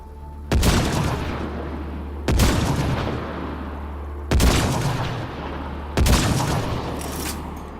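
Gunfire from the video game Mass Effect: Andromeda comes in four loud, close bursts at roughly two-second intervals, each a sharp blast trailing into a rumbling decay over a steady low hum.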